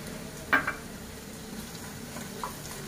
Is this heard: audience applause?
no